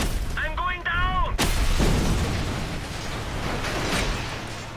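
Gunfire in Just Cause 2 during a vehicle chase: a sharp loud crack cuts in after a brief voiced outburst, followed by a dense rumbling wash of blasts and shots that fades slightly toward the end.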